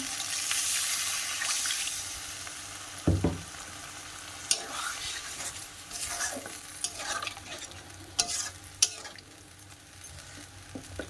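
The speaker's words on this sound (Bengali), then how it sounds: "দু চারবার নাড়া দিয়েছি একদম লো ফ্লেমেই হবে এই যে একটু মশলার জল দেবো" Mushroom curry cooking on a low gas flame in a pan, with spice water added, gives a soft steady sizzle and occasional clinks and scrapes of a spoon stirring, close by and fairly quiet.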